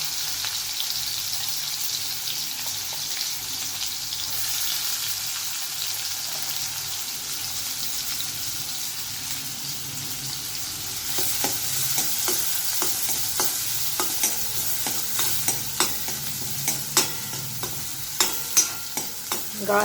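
Onion and garlic sauté over a fast flame while dry prawns masala is prepared, a broad sizzling hiss that grows busier, with crackling pops and sharp spatula knocks as the stirring picks up.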